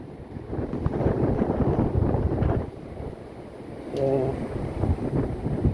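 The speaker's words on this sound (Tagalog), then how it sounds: "Kaso mahangin" Wind buffets the microphone with a rough, rumbling roar in gusts, and people speak beneath it for a few seconds.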